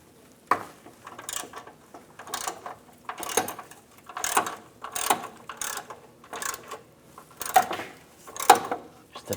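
A ratchet with a 13mm socket loosens a suspension nut on a 2007-2014 Cadillac Escalade ESV, giving close, repeated bursts of clicking pawl strokes in an irregular rhythm of roughly a dozen pulls, with no talking.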